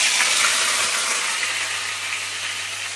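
Dense, bright frying hiss from hot oil, loud and close, holding steady for the whole stretch with no voices over it.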